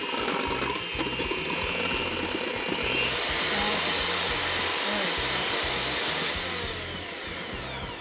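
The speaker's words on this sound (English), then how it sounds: "I'm gonna beat the egg whites until they have stiff peaks." Electric mixer beating egg whites with cream of tartar in a large mixing bowl, a steady loud motor whir with a rhythmic chopping pulse as beaters strike the bowl, a high whine holding through the middle.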